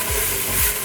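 Onion and garlic dropped into a hot soup pot for lasagna soup burst into a loud, close, dense sizzle that fills the whole brief moment.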